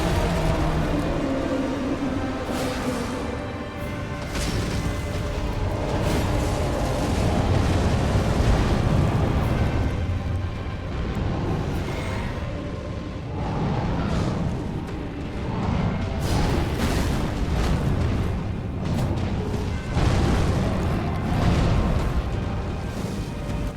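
Boss battle against the fire giant in Elden Ring, with fire used as the attack: a loud, continuous roar of booming blasts and rumbling eruptions that swells and dips across the whole fight, with no talk over it.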